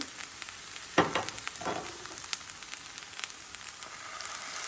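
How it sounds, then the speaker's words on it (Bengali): Beef sizzles in a pan with oyster sauce and soy sauce while a spatula stirs it. A sharp scrape and burst of frying near the start settles into a constant hiss with light intermittent clinks. "দিয়ে আবার একটু নাড়াচাড়া করব"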